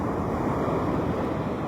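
Sea waves washing steadily in open water during a light-tackle fishing trip for giant trevally, a continuous dense surf-like rush with wind noise and no voices.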